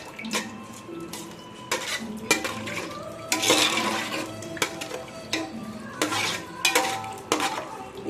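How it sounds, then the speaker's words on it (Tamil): A metal spoon stirs rice and water in a cooking pot for biryani, clinking and scraping against the sides in irregular bursts with sloshing in between, close and moderately loud, no voices. "நல்லா கலந்து விட்டுருங்க."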